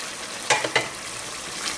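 Steady sizzling hiss of mutton liver frying with spices and ginger-garlic paste in a pan, with a few brief scraping stirs partway through.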